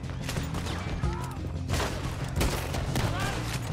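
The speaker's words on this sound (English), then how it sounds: "That's a freaking shotgun." A few heavy shotgun blasts ring out in Red Dead Redemption 2, loud cracks rising over busy game ambience while someone talks.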